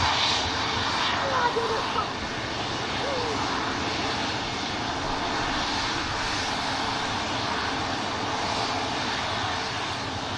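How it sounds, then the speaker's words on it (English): An Airbus A350 jet airliner powers across the airport on departure, a broad steady engine roar that holds throughout, with a voice speaking over it. "There goes the stunning 350 heading across the Atlantic to Las Vegas."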